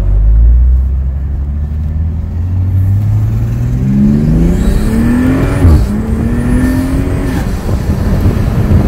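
A 2021 Toyota Supra in sport shift mode accelerates close by, its engine note rising through the revs, dropping at a gear change and then climbing again. The sound is loud and there is no speech over it.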